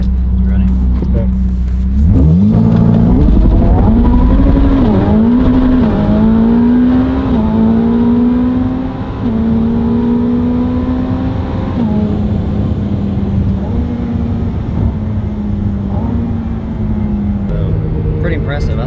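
Dodge Demon fitted with an aftermarket exhaust launches and accelerates, a loud deep engine roar rising through several gear changes from inside the car, with faint talk mixed in.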